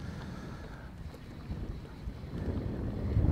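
Gusty wind blows across the Des Plaines River while someone is bass fishing from a boat. It roars and buffets hard against the microphone, builds toward the end, and plays without talk.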